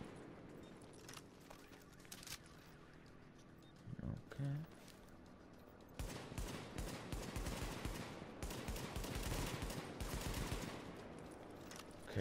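Rapid bursts of gunfire in the video game The Division crackle through the second half, dense and loud, after a quieter stretch with a few isolated thumps.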